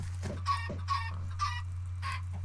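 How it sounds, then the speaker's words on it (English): Video game chickens cluck repeatedly in short bursts over a steady low electronic hum, fairly faint and evenly spaced. "That's a lot of chickens."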